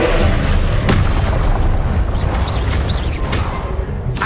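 Spell effect in Hogwarts Legacy combat, a sharp booming burst followed by crackling magical whooshes and rumbling impacts, loud and busy throughout.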